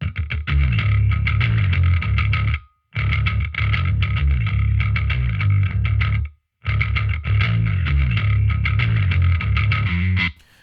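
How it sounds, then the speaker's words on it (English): An electric bass guitar played through a compressor on a Line 6 Helix rings out in loud, sustained phrases, with two short silent breaks between them. "So when the compressor is on, it just brings the bass guitar forward more."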